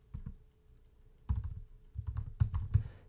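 A computer keyboard is typed on in short irregular clusters of soft, close keystrokes, with quiet pauses between bursts.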